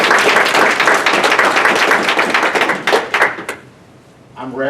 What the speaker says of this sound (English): One more round of applause for the video.